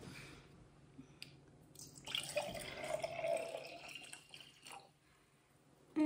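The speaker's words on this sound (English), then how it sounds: "I'm going to cover it completely with the white vinegar" White vinegar poured from a container over an egg sitting in another container, a soft continuous liquid pour and splash of moderate loudness lasting a few seconds before tapering off.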